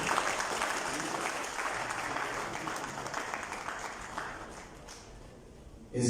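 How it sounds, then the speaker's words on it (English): Sustained applause from an audience at a Lagos State governor's meeting with police and victims, dense steady clapping throughout that thins slightly toward the end. "Please, can we applaud the resolution?"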